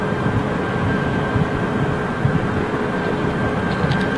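A Korean Air Boeing 777 departing London Heathrow at dusk, a continuous loud jet engine roar with a steady whine, no talk.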